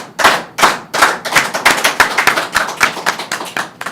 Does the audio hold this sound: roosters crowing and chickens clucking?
no